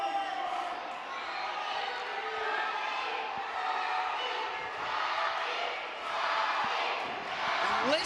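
A wrestling crowd at the ASWA Winter Reunion 2021 roars behind wrestler Robby Collins, a continuous swelling cheer with surges, under a commentator talking over it.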